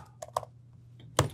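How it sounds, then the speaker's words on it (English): A few scattered keystrokes on a computer keyboard while editing a text file in Vim on Linux: close, sparse clicks ending in one louder, heavier key press. "now I can start typing"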